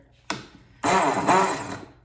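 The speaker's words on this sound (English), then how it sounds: "And use an emergency blender." A short click, then a blender roars to life, a loud whirring grind that holds for about a second before cutting off.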